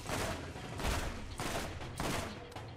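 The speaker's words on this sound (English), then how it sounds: "I just don't use machine guns very often because I'm not a big fan of them in this game." Machine gun fire in Borderlands comes in rapid bursts, about four close, loud volleys in quick succession with no talk.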